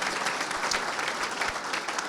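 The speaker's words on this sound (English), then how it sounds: "please give Phil a round of applause" Dense, even applause from a crowded audience at a charity gala dinner, sustained and close throughout with no voices on top.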